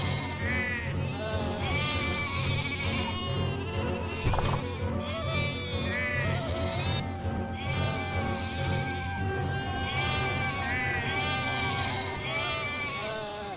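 A goat in a Hindi animated story bleats over and over in a loud, continuous series of wavering cries.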